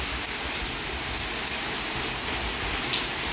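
Rain falling outside makes a dense, steady broadband wash of noise that holds evenly throughout, loud and close, with no voices.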